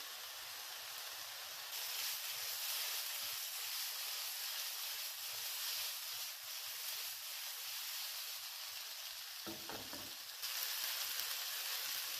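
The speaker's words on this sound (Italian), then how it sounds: "In tutto le ho lasciate cuocere 8 minuti, saltandole ogni 2 minuti." Eggplant slices cooking in a hot pan without deep frying, a faint steady sizzle and hiss continuing throughout with a brief louder rustle of the slices being tossed near the end, no voices.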